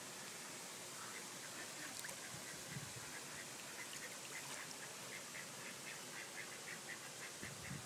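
Ducks quack beside a pool in a quick run of soft, repeated calls that stand faintly above a constant hiss of water or background noise.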